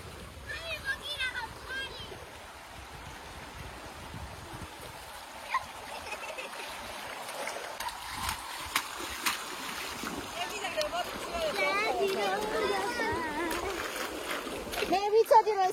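Stream water flows at a village picnic spot with irregular splashing as people wade in, a soft steady rush running throughout beneath nearby voices.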